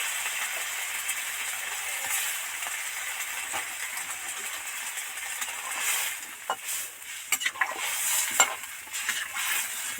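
Steady sizzling hiss of a hot pan of spices as water is poured in for a pumpkin, potato and drumstick curry, with a few sharp crackles and pops near the end, no voices.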